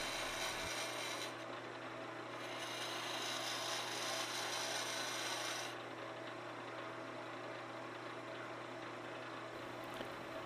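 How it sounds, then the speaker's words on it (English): A skew chisel roughs down a spinning wooden spindle on a lathe, giving a continuous loud rasping, scraping cut that shifts in intensity as the tool moves along the wood, with no voices. "that's how you do roughing with a skew chisel"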